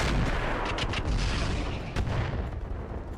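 Booming weapon fire from giant mechs in the BattleTech game with the RogueTech mod, a dense rumbling barrage with a few sharper blasts, loud and continuous throughout.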